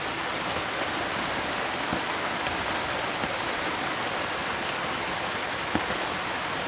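Heavy rain pours down in a dense, steady hiss of drops hitting surfaces, loud and continuous with scattered sharper splashes, and no talk.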